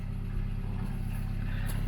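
A 1964 Renault Gordini R1095 engine with an automatic choke idles steadily just after startup, a close, even low rumble with a fast pulsing throb and no speech.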